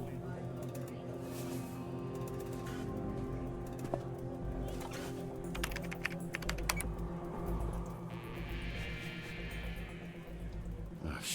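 Keyboard typing in a video game, a steady stream of light clicks running under a busy mix of music and game sounds, with a voice talking over parts of it.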